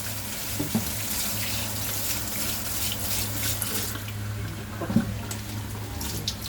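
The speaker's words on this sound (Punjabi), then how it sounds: "ਇਹਦੇ ਉੱਤੇ ਆਪਾਂ ਠੰਡਾ ਪਾਣੀ ਛੱਡਾਂਗੇ ਮਕਰੋਨੀ ਦੇ ਉੱਤੇ" Cold water runs steadily from a tap over cooked macaroni and splashes into a sink, with a couple of faint clinks along the way and no talking.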